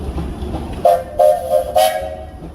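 A steam engine's whistle at an outdoor steam show sounds in three or four loud tonal blasts, each a steady high pitch, the last held longest, over a low background rumble.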